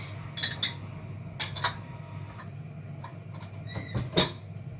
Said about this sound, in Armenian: Լավ խառնում եմ